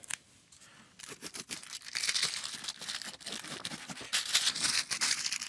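Hockey tape being torn off the roll and pressed down while crafting a video light: a quiet start, then repeated close, crinkly ripping and crackling bursts with no talking.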